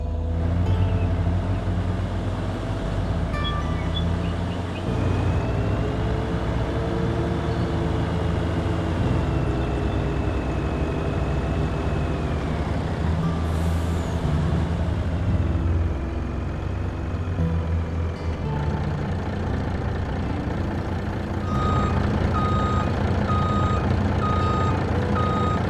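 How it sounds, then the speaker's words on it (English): A truck in a construction video game rumbles close by while its reversing alarm beeps in a steady repeating pattern, the engine note rising and falling underneath. "is that a truck I hear?"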